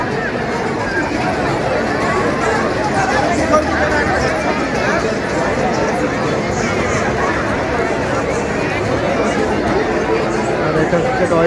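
Steady, dense crowd chatter fills a busy evening fair in Haldia, the Khudiram Mela, with many overlapping voices forming a continuous babble at even loudness throughout.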